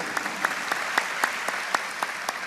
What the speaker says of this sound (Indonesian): Tepuk tangan lebih meriah.